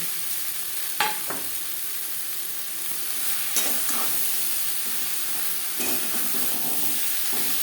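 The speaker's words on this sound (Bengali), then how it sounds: "লঙ্কা ও টমেটোর সাথে পেঁয়াজ বেশ ভালো করে ভাজা হয়ে গেছে" Onions fry with chili and tomato in a pan for a ridge gourd and rohu fish curry, a steady low sizzle broken by a few brief scraping stirs.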